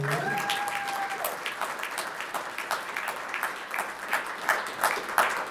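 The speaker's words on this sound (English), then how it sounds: "So, Wendy, will you start us an applause for that?" A civic audience at a State of the City event claps in sustained applause. The clapping is somewhat distant and builds into sharper, louder bursts toward the end, and a brief tonal sound rings out near the start.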